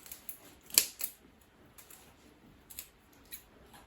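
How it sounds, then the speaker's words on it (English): Scissors snip through azalea bonsai roots with a few faint, crisp clicks, one sharper cut standing out, close and quiet with long pauses between. "I need a better pair of scissors."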